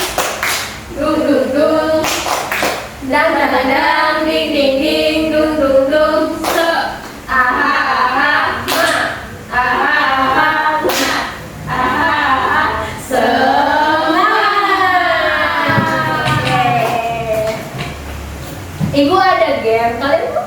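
Primary school pupils in a classroom doing the "tepuk semangat" clapping chant, sharp rhythmic clap patterns mixed with children's chanting voices, loud and close, repeating through the whole stretch.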